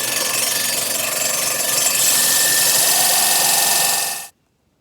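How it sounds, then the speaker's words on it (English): A power drill bores into a cut log being made into a birdhouse, a loud steady whining drone held close for about four seconds before cutting off abruptly into silence. "we drilled down as far as our bit would go"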